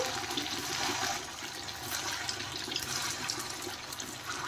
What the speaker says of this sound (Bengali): আরো কিছু বল আছে, এগুলো ভেজে নিচ্ছি।